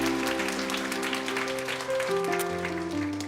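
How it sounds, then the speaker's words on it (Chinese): Congregation clapping during a Sunday church service for a father whose daughter is being baptized, a moderate patter of hands mixed with sustained music tones throughout. "爸爸还没有洗礼，但是他要给女儿洗礼了，为他拍拍手嘛。"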